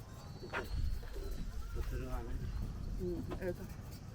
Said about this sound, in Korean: 갈매기들 엄청 많네